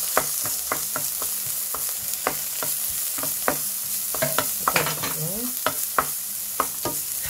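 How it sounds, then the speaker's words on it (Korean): Half an onion and carrot stir-fried in oil in a pan, with a steady sizzle broken by regular scraping strokes of a spatula, close and clear with no talk. "양파 반 개를 볶아줍니다. 그리고 당근을 잘 안 익으니까 먼저 볶아줘요."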